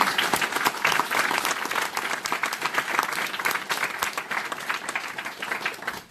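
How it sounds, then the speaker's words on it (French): Sustained applause from a conference audience, many hands clapping steadily and loudly for several seconds before tapering off at the end. "si on peut l'applaudir un petit peu"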